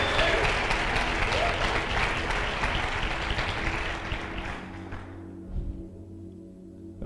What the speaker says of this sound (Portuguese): Você pode aplaudir o Senhor pela vida do seu pastor querido, da sua pastora.